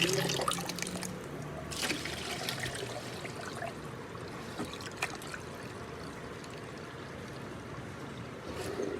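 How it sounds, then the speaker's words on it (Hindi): Soaked rice is washed in water, with soft sloshing, trickling and dripping that stay fairly quiet throughout and are broken by a few brief splashes, with no speech. "ये जी हमारे चावल भी भीग गए हैं, तो धुल गए, इनको अच्छी तरह धो लिया"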